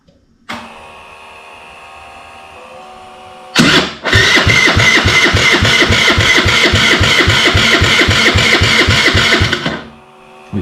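A 50cc GY6 139QMB scooter engine is cranked on the starter after sitting dead. A brief starter whir comes first, then about six seconds of steady, loud, rhythmic cranking close by that never catches.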